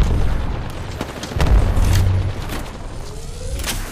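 Arc star grenades burst in an Apex Legends arena fight, a loud booming blast with crackling electric pops and rumble, alone among game noise.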